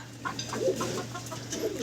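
Breeding pigeons in a large loft of roomy cages, one pair per cage, give soft, close calls and clucks in short bursts over a steady low hum.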